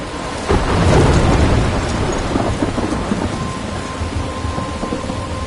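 A video game thunderstorm rolls in with a heavy, loud rumble of thunder that swells and then lingers over steady, dense rain pattering across surfaces, with no voices.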